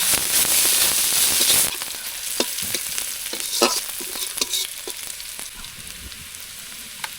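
Sliced onion sizzles loudly in hot oil with panch phoron, dried red chilli and bay leaves, close up. A spatula stirs it with scraping, crackling taps under the steady frying noise, and no one speaks over it.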